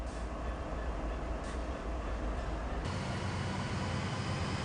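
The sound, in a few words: locomotives pulling train in video game Train Sim World 3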